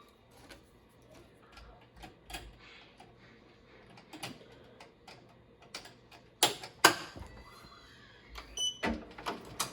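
A Ricoma EM1010 embroidery machine stitching sounds as a faint, quiet series of ticks and clicks, with a few sharper, louder clacks near the end.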